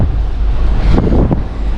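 Gusty wind buffets the microphone on the open top deck of the P&O Arvia cruise ship on a grey morning, a loud continuous low rumble with a couple of stronger surges and no talking.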